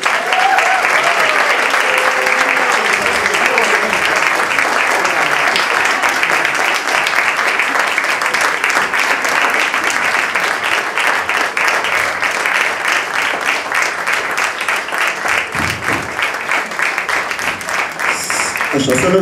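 Dense, continuous applause from a school audience greets the 12th B class at a Romanian high school's December show, loud and steady for the full length, with a voice speaking over it briefly.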